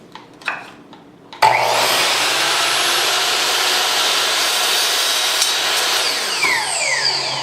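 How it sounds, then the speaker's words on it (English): A power saw cuts small wooden dowel rods for square foot gardening planting guides: after a few faint knocks, a loud, steady high whine and rasp starts suddenly and runs on without a break. "when I cut off these dowel rods, they will all be the same length"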